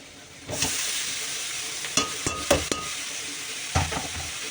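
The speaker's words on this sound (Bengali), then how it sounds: "বাঁধাকপিটা দিয়ে একটুখানি নেড়ে নিই" Shredded cabbage stirred into a frying pan over fried potatoes, a steady sizzle broken by several sharp scraping stirs and clinks of the spatula against the pan, close and fairly loud.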